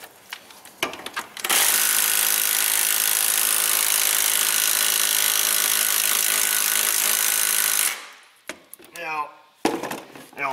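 A Milwaukee cordless power tool runs steadily and loudly for about six seconds while spark plugs are being changed on a Kia Sedona 3.5, then stops. Brief handling clatter comes before and after the run.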